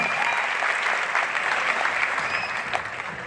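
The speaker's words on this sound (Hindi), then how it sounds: "जोरदार तालियां सबसे पहले इनके लिए" Loud, sustained applause from a large live audience at a comedy show in Dubai, thick continuous clapping filling the whole stretch without a break.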